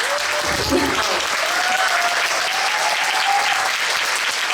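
A theatre audience claps steadily for four actors after a play, sustained applause filling the space, with a faint tonal sound drifting over it.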